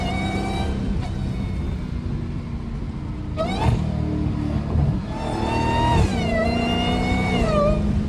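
A Dodge Hellcat's engine drones and rumbles while the car is driven on the road, the revs rising and falling as it accelerates and shifts, heard steadily from inside the car.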